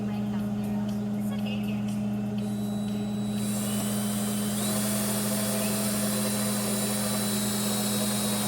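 An electric drill bores a hole in a part for a homemade mini trike, giving a steady close-up motor whine that grows louder and harsher partway through as the bit bites in.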